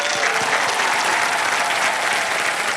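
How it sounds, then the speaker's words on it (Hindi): A studio audience on the Wheel of Fortune game show bursts into loud, sustained applause, a dense patter of clapping hands that fills the whole short stretch. "जोरदार तालियां इनके लिए।"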